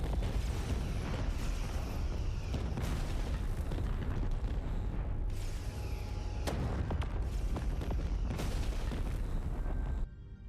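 A raider ship explodes in the space battle game Star Trek: Voyager – Across the Unknown: a loud, continuous rumbling roar of blasts and booms with repeated bursts, cutting off abruptly near the end.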